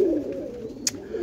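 Roller pigeons coo softly and continuously in kit boxes, close by, with a brief sharp click partway through.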